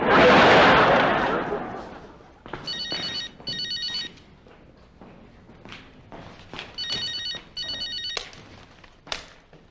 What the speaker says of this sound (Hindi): फोन है, टेलीफोन है।